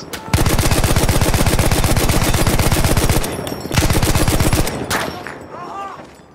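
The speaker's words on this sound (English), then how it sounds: "Somebody's shooting us." Rapid automatic gunfire in the Battlefield 1 video game, two long sustained bursts of loud machine-gun fire with a short break between, then scattered shots and a voice at the end.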